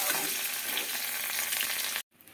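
Cauliflower pieces fry in hot oil in a pan with a steady, loud, close sizzle that cuts off abruptly near the end, leaving quiet background.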